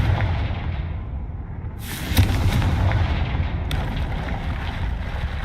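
A Confringo blasting spell in Hogwarts Legacy goes off as a loud, rumbling explosive burst over a dense, roaring background, with a sharp crack partway through.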